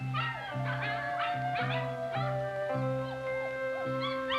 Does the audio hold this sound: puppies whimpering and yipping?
yes